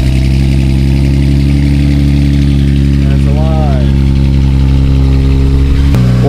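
A Nissan VR30 twin-turbo V6 fitted with Z1 VRX70B turbos idles loudly and steadily up close with a deep drone, and a brief blip near the end.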